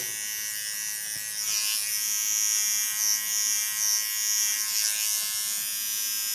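A small electric hair clipper trims hair during an asymmetric haircut, giving a loud, close, steady high-pitched buzz whose tone dips briefly a couple of times as it meets the hair.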